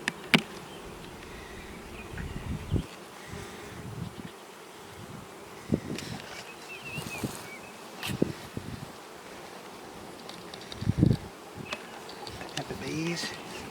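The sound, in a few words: honeybees buzzing around hive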